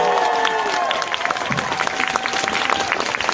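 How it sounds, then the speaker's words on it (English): Steady applause from a Fan Expo audience, a dense patter of clapping hands continuing throughout. "Terry Hawks, please round of applause."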